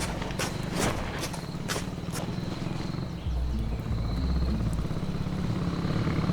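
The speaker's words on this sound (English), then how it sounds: "I heard a motorcycle." A motorcycle in the distance near a golf course campsite, a low rumbling engine hum that grows a bit stronger midway, mixed with close clopping footsteps and scattered clicks.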